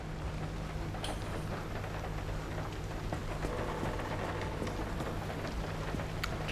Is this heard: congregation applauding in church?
no